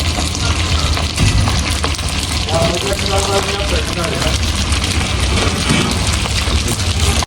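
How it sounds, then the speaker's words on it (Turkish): Steady, dense sizzling and bubbling of food frying in hot oil, loud and close throughout, with voices talking faintly in the background. "Yağda kızartıyoruz arkadaşlar."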